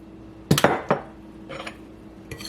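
Cornmeal, sugar, salt and baking powder are mixed in a bowl, giving a few sharp clinks and scrapes of a utensil against the bowl followed by softer stirring scrapes, close and intermittent.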